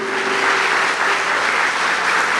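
A church congregation at a Sunday communion service claps loudly and continuously, a thick wash of applause that stays steady throughout with no voices over it.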